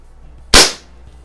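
A single sharp, close pop from a CO2-powered BB pistol, a short crack with a quick fading hiss in an otherwise quiet setting.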